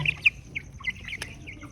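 Chicks peep in short high chirps while eating potatoes, several quick calls close by with small pecking clicks and a soft background hum.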